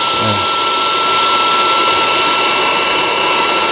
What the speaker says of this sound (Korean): 이렇게 하면 뭐 웬만한 에어매트들, 에어텐트들 바람 금방 빠지죠.